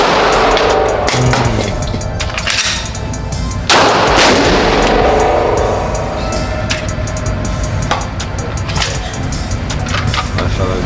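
Unsuppressed pistol fitted with a red dot sight fired at a shooting range: loud, sharp cracks in a dense, irregular run, with more shots from other shooters close by.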